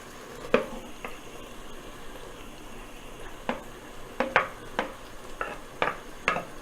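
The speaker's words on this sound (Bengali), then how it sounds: "এরপরে আমরা গাজর টমেটোটা দিয়ে দেব।" Carrots and tomato dropped into a hot frying pan for spicy pasta, giving a soft sizzle beneath a series of sharp scraping stirs and clacks of a utensil against the pan, close by and without speech.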